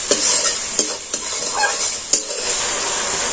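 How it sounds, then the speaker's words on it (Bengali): Pumpkin and prawn curry with sugar and salt fries in a pan, a bright continuous sizzle broken by several sharp spatula scrapes and knocks as it is stirred, close and fairly loud, no voices. "আমি এটাকে ভালো করে কষিয়ে নেব।"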